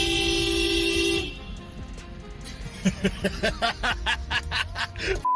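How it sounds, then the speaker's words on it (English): A car horn blares in one long steady blast to startle a pedestrian on the street, loud and close, then cuts off and gives way to bursts of laughter and chuckling. "scare a pedestrian using his car horn"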